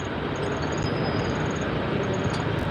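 A 30 HP three-phase electric motor running on a single-phase supply gives a loud, continuous, even mechanical roar with a faint high whine over it, unchanged from start to end.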